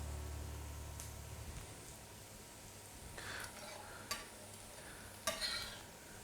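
Fresh herbs and garlic puree fry in a pan for stuffing Wellington, with a low sizzle under several sharp scrapes and clinks of a utensil stirring against the pan, the loudest strokes toward the end.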